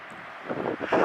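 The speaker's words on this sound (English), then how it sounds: "All the winds are getting funneled into this little spot here, and it is just gusting like crazy." Strong wind gusts roar through a narrow funnel beside a choppy lake in the Desolation Wilderness, a loud buffeting rush swelling toward the end.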